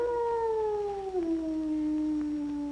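Dog howling in a long, sustained, slowly falling tone, close and clear, with no talk over it.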